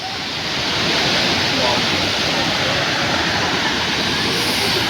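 Rushing water swollen by rain roars through the Sundarijal jungle, a loud, continuous, broad wash that swells up within the first second and then stays steady.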